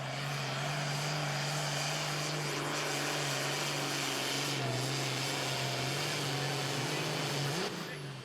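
A Super Farm class pulling tractor called the Red Rooster roars during a 2015 Pro Pulling League tractor pull in Franklin, Kentucky, its loud, steady engine drone holding at full power and easing off at the end.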